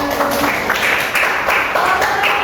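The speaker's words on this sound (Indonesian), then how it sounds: "Oke, tepuk tangan." A class claps after a group presentation, a dense, steady patter of hands at close range throughout the short stretch.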